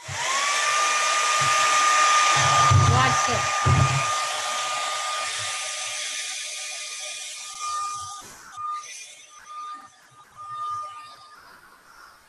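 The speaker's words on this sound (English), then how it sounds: "Okay, so I've got my dollar store hair dryer." A cheap dollar-store hair dryer blows over resin coasters with a steady high whine and airy rush that runs for several seconds, then cuts off and restarts in short bursts; a voice speaks briefly near the start.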